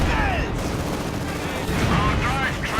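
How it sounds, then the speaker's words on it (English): Mortar bombardment and scattered gunfire in the World War II strategy game Company of Heroes 2 during a 1v1 match, with a rolling din of booms and shots. "A bit of mortar bombardment."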